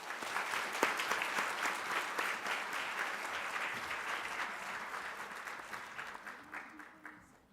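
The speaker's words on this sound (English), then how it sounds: "Please join us in giving them a massive round of applause." An audience at a girls' leadership event breaks into sustained applause, a broad wash of clapping that stays even and then thins slightly toward the end.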